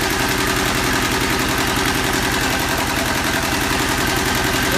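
A Yanmar YM146 diesel engine runs at a steady idle, loud and close, with an even rapid chugging pulse and constant mechanical clatter throughout, no voices.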